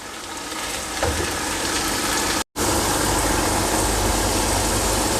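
Masala of coriander powder and red chilli powder frying with chicken in a pot for murgh dal, a steady close sizzle and hiss running throughout with one brief dropout partway.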